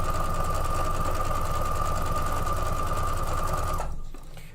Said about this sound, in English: We're going to go ahead and sew this one up real quick.